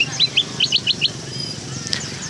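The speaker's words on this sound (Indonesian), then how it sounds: "Di sini banyak dijual berbagai jenis burung." Birds, including golden and silver bulbuls, chirp at a Sunday morning traditional bird market in Payakumbuh, West Sumatra, giving a quick run of short, bright, high tweets close by over a soft murmur of background noise.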